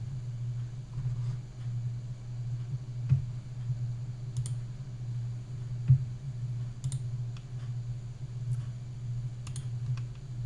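Computer mouse clicks on a desktop, heard as a few sharp, separate clicks against a steady low hum, with no talking.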